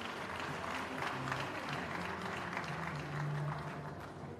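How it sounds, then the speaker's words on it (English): A crowd at a university convocation ceremony applauds prize winners, steady dense clapping filling the whole stretch at moderate distance, with faint murmuring voices underneath. "Another round of applause for the prize winners."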